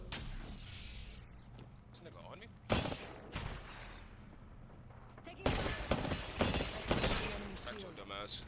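Gunfire in Apex Legends during solo ranked play on World's Edge, with sharp bursts of shots and impacts coming in clusters, some loud and close, over a steady background of game sound.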